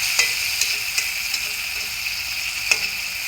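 Spices with chopped onion, garlic and ginger fry in a pan, a bright continuous sizzle broken by a few sharp clicks of stirring, close and steady with no talking.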